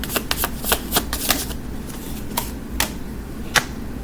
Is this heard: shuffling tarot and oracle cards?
yes